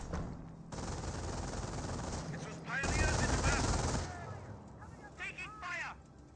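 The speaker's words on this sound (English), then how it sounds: "Now the MG42 is starting to fire." Sustained MG42 machine gun fire in a Company of Heroes match, a dense continuous burst with distant gunfire and battle noise, overlaid by chirpy unit voice effects and game sounds.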